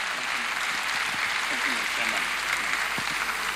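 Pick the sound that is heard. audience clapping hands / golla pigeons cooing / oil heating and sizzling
audience clapping hands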